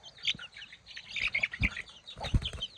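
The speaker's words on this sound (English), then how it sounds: "chickens, when I open up here, they always jump out" Several bursts of wings flapping alongside bright chirps and clucks from local farm chickens jumping out of an opened coop, close by and fairly busy.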